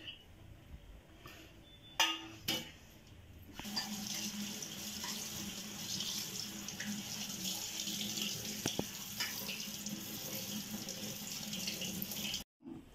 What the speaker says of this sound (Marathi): आता हे स्वच्छ चाळणीत घालून धुवून घ्यायचं.